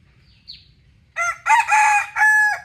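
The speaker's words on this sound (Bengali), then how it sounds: "সকালবেলা মুরগের ডাক মানুষের ঘুম ভাঙ্গে" A rooster crows loudly and close by from a high perch in a village in the morning, one long drawn-out call in several bursts, after a brief faint chirp over a low background rumble.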